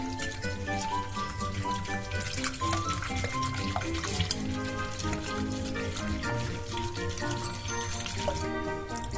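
Semolina porridge boiling in a pot, a steady wet bubbling and churning that runs continuously at close range with no voices.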